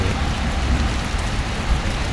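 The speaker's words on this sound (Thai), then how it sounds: "ฝนตกหนักมากเลยตอนนี้ โอ้ หนักอีกแล้ว" Heavy rain pours steadily in Prasat, Surin, Thailand, a dense continuous roar with a low rumbling undertone, close and loud, with no voices.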